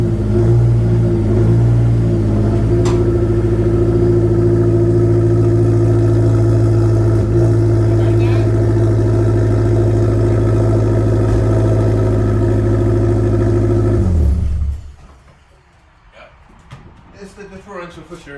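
A Honda S2000 with a broken rear differential runs steadily with a loud, continuous engine drone and rumble for about fourteen seconds. Faint clicking is buried in the drone. The engine then cuts off, leaving near silence with small rustles.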